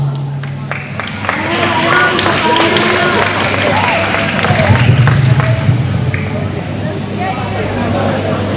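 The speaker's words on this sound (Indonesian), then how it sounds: "tepuk tangan dulu dong" Audience applause after a presentation at a talk show event, a broad wash of clapping sustained throughout, with a voice and some tonal sounds mixed over it.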